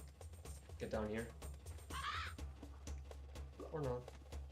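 A crow-like bird in Zelda: Skyward Sword caws three times, each a harsh rasping call spaced about a second apart over low game ambience, with faint clicks in between and no one talking over it.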